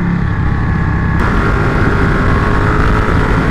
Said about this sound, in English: That's just above idle.